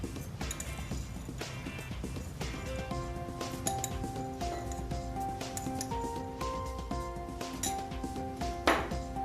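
Metal teaspoons clink and ping against glasses as loose tea is spooned in, a series of light, bright taps and ringing tones over a steady background hum with no talk.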